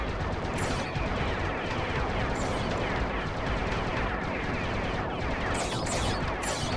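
Rapid, continuous gunfire fills the whole stretch in the PS1 video game Assault: Retribution, dense and loud with repeated sharp bursts and no talking.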